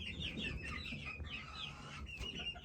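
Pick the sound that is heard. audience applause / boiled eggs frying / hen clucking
hen clucking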